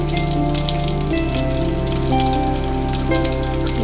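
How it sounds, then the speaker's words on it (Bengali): Cumin, black pepper and raw onion fry in hot oil, giving a loud, dense crackling sizzle up close. It holds steady throughout, with a low hum beneath it. "তেল গরম হলে এর মধ্যে দিয়ে দিলাম জিরে গোলমরিচ কাঁচা পেঁয়াজ"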